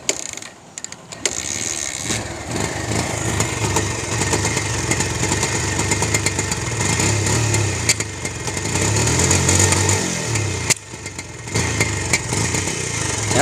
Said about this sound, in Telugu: ఇంజిన్లో మీకు ఒకసారి బండి స్టార్ట్ చేసిన సరే స్లో స్పీడ్ నిలబడలేదు.